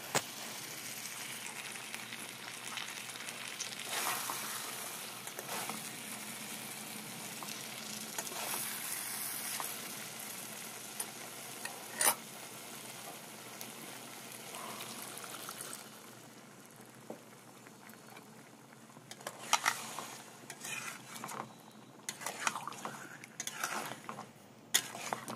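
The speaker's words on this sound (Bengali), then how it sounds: "আলুগুলোকে দিয়ে আবার সব ভালো মতো একসাথে নাড়িয়ে নেব।" Fried potatoes are stirred into a bubbling chicken curry masala: a steady close sizzle and frying hiss with scraping stirs, easing to quieter bubbling and a few utensil knocks toward the end, with no voices.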